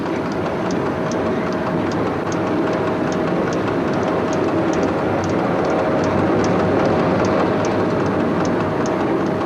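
Cab of the SNCF CC 6524 electric locomotive running toward Limoges past Ambazac: a steady loud rumble and wheel roar with a faint tonal whine and regular clicking of rail joints throughout, no talk.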